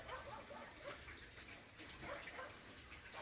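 A tub being filled until the water spills over, a steady rushing pour with splashing, heard close and continuous with a faint voice now and then.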